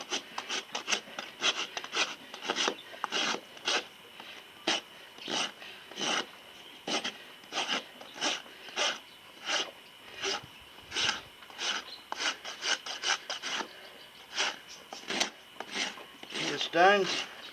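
Steady rhythmic strokes of a hoof rasp filing a horse's hoof during a trim, about two strokes per second, close and fairly clear, with a brief gritty scrape near the end where a stone caught in the hoof.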